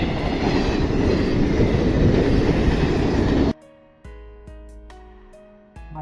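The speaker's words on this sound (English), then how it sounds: "You can see the regional train." A regional train pulls into a station in Denmark on a snowy day: a loud, steady roar of wheels and motors that cuts off abruptly, followed by quieter clanks, tones and mechanical knocks nearby.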